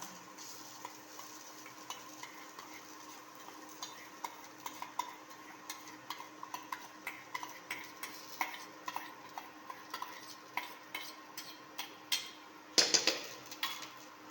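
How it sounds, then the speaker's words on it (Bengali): Gobindobhog rice stirred into lightly fried spices in a pot for basanti pulao, a spoon scraping and clinking in a steady rhythm over a faint sizzle, with a louder clatter near the end. "তো চালটাকে আমি ভালোভাবে নেড়ে চেড়ে এটার সাথে মিশিয়ে নেব।"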